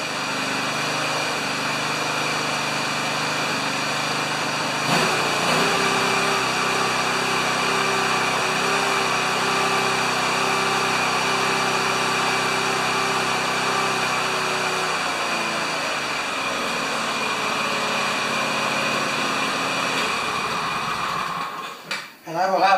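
A John Deere LX178 lawn tractor engine cranks and catches after a few seconds, then runs at a steady, loud idle for about ten seconds before dropping off, with mechanical clatter continuing afterward.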